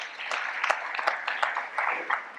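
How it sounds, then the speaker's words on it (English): Audience applause for a program committee at a network operators' community meeting, a steady wash of many hands clapping at moderate distance, with a few sharper individual claps standing out. "So if everyone could kind of give a round of applause for all those who are part of the program committee."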